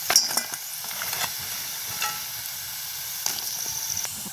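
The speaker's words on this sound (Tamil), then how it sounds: "இப்போ நாங்கள் பொரியிற கிழங்கத்தான் இதுக்கு இறக்க போகிறோம்" Cassava pieces fry in hot oil with a steady bright sizzle, broken by a few sharp clinks and scrapes of stirring close by.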